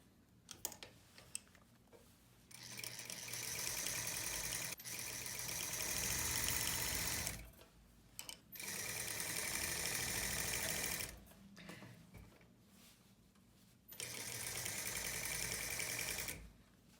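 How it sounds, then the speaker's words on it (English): A sewing machine runs a back stitch along a collar lapel in three sustained bursts, each a few seconds long, with quiet pauses between. It is close and fairly loud, with no talking. "so I want to do back stitch up to here"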